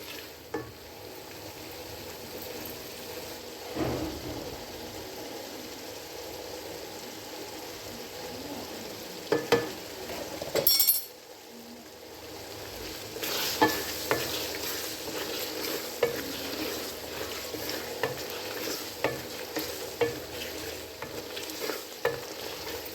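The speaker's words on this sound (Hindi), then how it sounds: "अभी ये तैयार नहीं हुआ, अभी मैं अच्छी तरह भून रही हूँ इसको।" Chicken curry masala fries in ghee in a pot, stirred again and again, giving a continuous sizzle broken by scraping and clattering spoon strokes, with louder bursts partway through.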